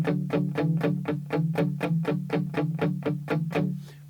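A guitar plays the intro of a song with a strong effects-unit, distorted tone, a quick run of evenly spaced picked notes, about four per second, up close and with no talking.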